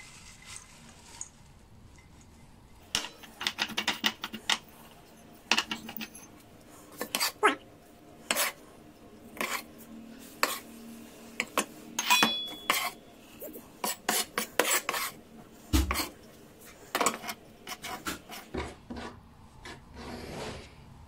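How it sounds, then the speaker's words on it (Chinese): Mutton and coriander bun filling being stirred in a bowl, giving repeated scraping, clacking strokes in irregular bursts, close by with no talk. "馅儿呢经过不断的搅拌成这个样子了"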